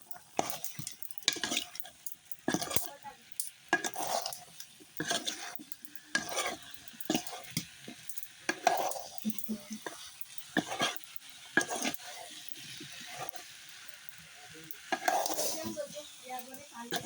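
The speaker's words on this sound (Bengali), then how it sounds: "এক চামচ দিয়ে নেড়ে দেবো।" A spoon stirs food sizzling in a pan after chilli powder is added, giving repeated scraping strokes in an uneven rhythm over a soft background sizzle, close and fairly quiet, with no talking.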